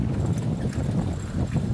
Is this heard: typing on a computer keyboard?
no